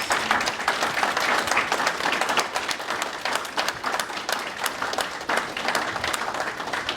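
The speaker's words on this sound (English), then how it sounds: "give her a big round of applause" Sustained audience applause at a doctoral graduation ceremony for an education faculty member, dense steady clapping from a large crowd that holds loud and continuous throughout without talk.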